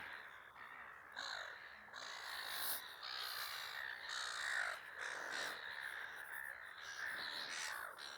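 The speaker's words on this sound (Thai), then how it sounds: "โอ้โห นกบิน" Crows cawing repeatedly by Lake Illawarra in New South Wales, Australia, harsh calls recurring every second or so at moderate distance over steady outdoor ambience, with no talk.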